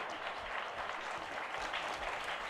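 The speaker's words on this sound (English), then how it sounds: "Keep clapping" A festival audience claps continuously and steadily, a dense, even wash of applause with no pauses or voices breaking through.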